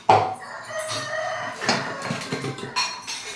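A rooster crows near the start, its call ringing out over background home kitchen clatter of dishes and utensils, with no voices.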